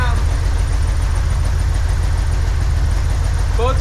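A 1963 Corvair engine with its choke disconnected idles down: a steady, loud, low rumbling idle with an even pulsing throb throughout and a brief higher whine near the end.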